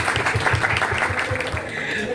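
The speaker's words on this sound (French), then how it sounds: "On va se faire un applaudissement." A classroom of students gives a round of applause during a French lesson, with brisk, steady clapping and some voices underneath.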